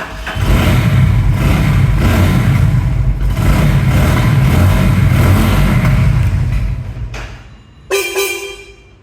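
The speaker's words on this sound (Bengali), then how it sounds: "আপনাদেরকে স্টার্ট করে বাইকের সাউন্ড শোনাবো একটু।" A Runner Bolt 165R motorcycle with about 28,865 km and an untouched original engine, in fresh condition, runs loud and steady for several seconds. It then dies away before a sharp burst near the end.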